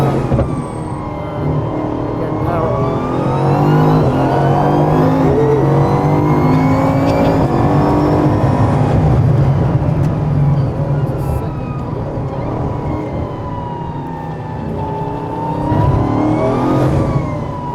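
A 1,600-horsepower Bugatti drives with a loud, close engine drone that swells and falls as the revs climb and ease, holding steady throughout with a brief lift near the end.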